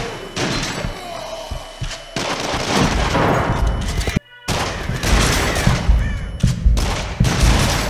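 Shotgun blasts in the PS5 VR horror rail shooter Rush of Blood ring out as dense, loud, repeated bangs and thuds, with a brief dropout near the middle before the firing resumes.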